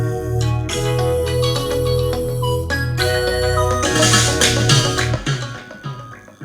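In an Afrobeats production, a simple flute melody plays over a looping beat with bass and percussion, the tune weaving steadily and the mix growing busier before tapering off at the end.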